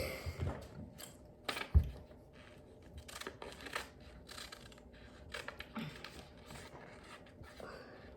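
Scissors snip through paper while a paper model of the Thrust SSC car is being made, giving faint, scratchy cutting bursts close by under soft, breathy voices.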